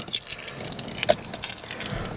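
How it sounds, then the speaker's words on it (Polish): Keys on a key ring jangle in bursts near a 1989 Dodge Aries K-car, a light metallic rattle repeating over about two seconds with no talking. "Kluczek."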